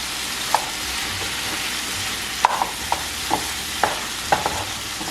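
A thick flour gravy mixture for shepherd's pie cooking in a pan, sizzling steadily up close while a spoon scrapes and stirs in a handful of short, sharp strokes, with no talking.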